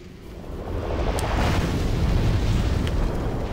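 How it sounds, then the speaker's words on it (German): Glowing bomb exploding in the video game Demon's Souls: a loud, deep rumbling blast that swells within the first second and holds as a sustained roar for several seconds, close and with no talk over it. "Die machen nämlich das, die explodieren nämlich mal gerne."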